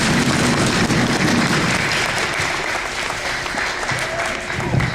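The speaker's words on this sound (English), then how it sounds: "Okay, give them a round of applause." An audience at a youth conference gives loud, sustained applause, dense clapping filling the hall for the whole stretch, with a voice speaking faintly beneath it.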